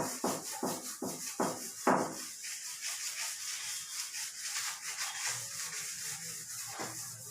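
A board eraser rubs chalk writing off a classroom board in a series of short, rhythmic scraping strokes up close, then quieter steady rubbing with faint room noise.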